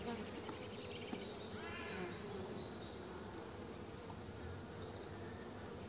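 Honeybees hum from an opened hive, a steady dense buzz close by with no pauses, faint and even throughout.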